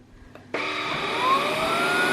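An Ultenic U10 Pro cordless stick vacuum cleaner switching on indoors, a sudden loud steady whirring hum that starts abruptly after a quiet moment and keeps running evenly.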